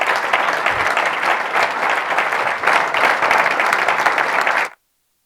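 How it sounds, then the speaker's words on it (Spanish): An audience at a Deusto engineering breakfast event applauds the speakers, a steady, even wash of many hands clapping that stops abruptly after nearly five seconds. "Un fuerte aplauso, por favor, para los ponentes."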